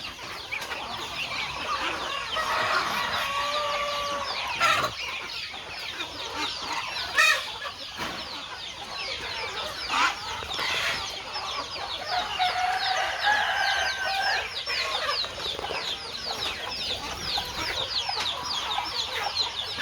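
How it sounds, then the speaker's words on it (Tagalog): Chickens, ducks and geese cluck and call continuously nearby, with occasional crowing and overlapping bird chatter. "Tignan nyo, may manok, may pato, may gansa."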